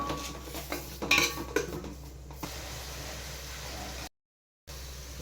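Chicken pieces and ginger paste stirred in a pot for Hyderabadi dum biryani, with a burst of metal utensil scraping and clinking near the start, then a quieter steady background hiss with no talk.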